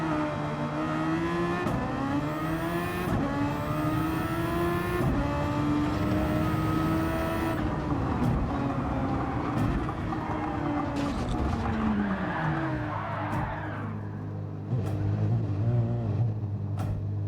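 Formula 1 car on an onboard lap at Lago Maggiore in a racing video game, engine screaming up through the gears with repeated shift drops, tire squeal and braking, then settling to a low idle-like drone near the end.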